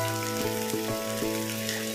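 Garlic, onion and ground chicken sautéing in a pan for lumpia toge filling, a steady close sizzle with a few soft stirring clicks and no talking.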